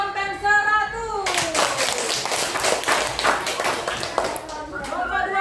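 A school class claps together in a quick burst lasting several seconds, with voices speaking Indonesian before and after the applause.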